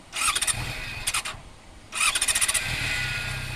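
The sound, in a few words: motorcycle engine starting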